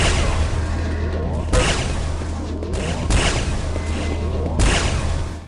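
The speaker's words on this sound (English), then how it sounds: "Railgun." A railgun fires in the first Quake video game, three sharp booming blasts with whooshing tails at regular intervals over a low steady hum, loud and close.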